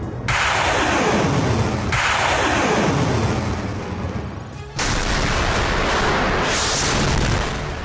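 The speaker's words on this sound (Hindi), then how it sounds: "एक के बाद एक मिसाइलें जोरदार ब्लास्ट के साथ टारगेट को हिट करने के लिए निकल पड़ी" Russian missiles launching toward targets in Ukraine's Luhansk region, loud roaring blasts one after another, each a sudden booming onset trailing into a long rushing roar.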